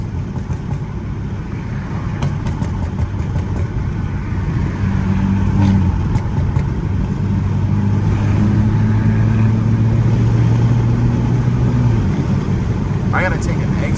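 From inside the car, a BMW F30 328i with a stage 2 tune drones on the highway. Its engine note swells and climbs steadily under loud road noise while people talk.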